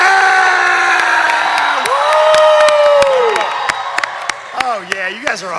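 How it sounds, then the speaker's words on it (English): A large convention crowd cheers, whoops and screams for the Gato stage, loud and close, with voices rising and falling and sharp claps and shouts breaking through toward the end. "start cheering for the Gato stage"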